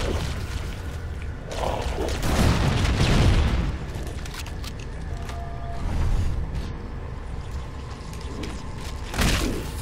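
A grenade goes off in Halo Anniversary with a loud, broad boom and rumbling tail, followed by further softer blasts and thuds amid ongoing game combat noise.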